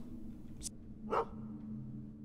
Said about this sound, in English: Isn't that your dog?